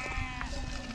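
Sheep in a large mountain flock bleat close by, a short clear bleat over a busy background of further animals and rustling.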